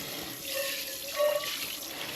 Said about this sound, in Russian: Холодной водой обдали.